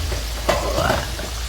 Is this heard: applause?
no